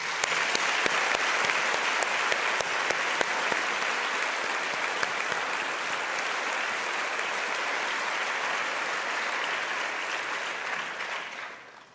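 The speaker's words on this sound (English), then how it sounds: "Please join me in giving them a big round of applause." Graduation-ceremony audience applauds steadily for about eleven seconds, a dense, even wash of clapping from a large crowd that tapers off at the end.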